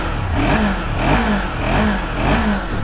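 A 48-horsepower two-cylinder Kawasaki Z motorcycle engine revs in repeated rising pulses close up, a rough throaty roar swelling and easing about four times with no voices over it.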